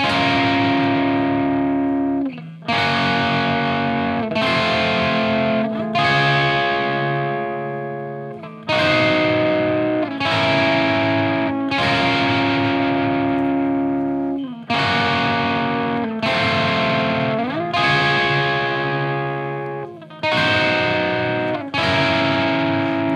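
Electric guitar through distortion and effects pedals plays a riff of sustained, heavily saturated chords, each ringing out, then cut off and restruck at a steady rhythm, loud and close with no talking.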